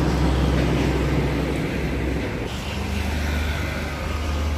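A Hino 500 6x4 truck with a red cab, hitched to a three-axle trailer, idles with a steady, loud, low diesel rumble close by, running alone without voices.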